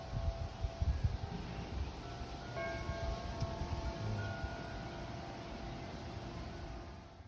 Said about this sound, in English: some beautiful wind chimes, out of some galvanized fence posts